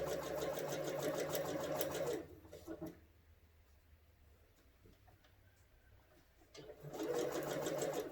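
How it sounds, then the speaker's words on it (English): A sewing machine stitches string-pieced quilt fabric in fast, even rattling runs, loud at the start and again at the end, with a quieter gap between them that holds faint handling sounds. "I'm letting the machine do the work."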